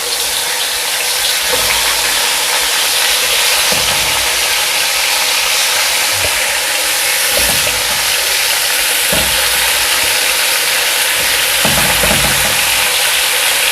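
Chicken tikka frying in oil in a pan, a loud steady hiss of sizzling that runs the whole time, close up, with a few soft knocks from stirring.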